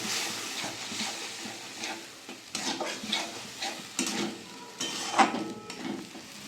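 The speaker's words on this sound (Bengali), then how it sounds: "অল্প জল দিয়ে ভালো করে কষিয়ে নেব মশলাটা" Spice paste with ground cashew and a little water being fried in a pan for Bengali doi katla, soft sizzling with intermittent stirring scrapes and light clinks, fairly quiet.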